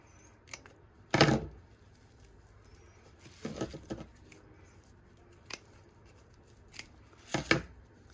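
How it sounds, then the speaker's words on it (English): Several crisp snips of scissors cutting fabric come at irregular intervals, each a short sharp slicing sound close by in an otherwise quiet room. "I'm trying to just cut the fabric and not the plastic"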